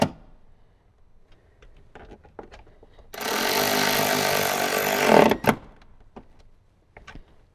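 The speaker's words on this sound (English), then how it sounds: "we'll get it tightened up with our 10mm socket" A 10mm socket tightens a car audio ground bolt during an Alpine amplifier and subwoofer install in a Toyota Tundra: one loud, steady buzzing whir of about two seconds, close up, between quieter scattered handling clicks.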